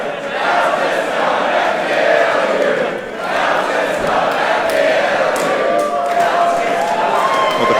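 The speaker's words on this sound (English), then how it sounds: "the crowd with chants of Delta's going to kill you" Wrestling crowd at an MCW event chanting for Delta, a loud, sustained roar of many voices with rhythmic rising and falling chant phrases filling the arena throughout.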